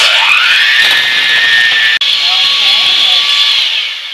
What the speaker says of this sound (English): Then we want to take our mixer and mix this cream cheese.